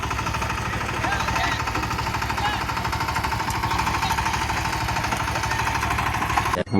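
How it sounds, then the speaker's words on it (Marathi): A tractor engine runs close by with a loud, rapid, even diesel chug and a knocking pulse. It continues steadily until it cuts off abruptly at the end. "आता ट्रॅक्टर घेऊन आलात राऊंड शोधायला परत"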